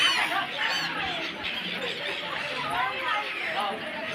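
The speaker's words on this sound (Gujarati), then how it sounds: "બધા પક્ષીઓ બધા ઉતરે" A dense flock of birds calls and chatters steadily at Dwarka ghat by the sea. Overlapping honking cries mix with the hum of a crowd in the background.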